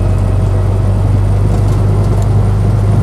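Steady low engine drone of a Land Rover Lightweight driving along a road, a loud continuous rumble with an even hum and no breaks.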